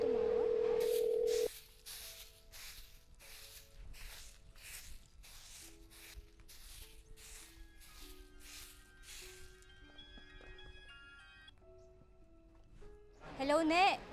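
A phone dialing a call: a string of quick even touch-tone beeps after an opening tone, then a ringback tone, with faint background noise and a louder burst at the end.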